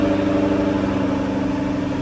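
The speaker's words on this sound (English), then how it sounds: "let's fire up the supercharged V8." A Jaguar F-Type V8 S convertible's supercharged V8 runs at a steady, slightly high idle just after starting. The engine hum is close, continuous and even, with no voices over it.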